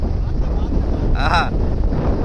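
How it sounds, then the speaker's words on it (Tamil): Strong wind buffeting the microphone at sea from a fishing boat during rough conditions, a steady loud rumbling roar throughout with a brief harmonic whine partway through. "காத்து தான் கொஞ்சம் வலுவா இருக்கு, போட முடியாத அளவுக்கு."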